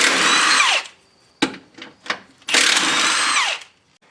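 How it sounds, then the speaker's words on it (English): An impact or power tool whirs in two loud, close bursts while removing 16mm bolts on a 2006-2013 Jeep Cherokee during starter replacement, with short clanks and rattles of the tool in the gap between. "These are 16mm bolts here,"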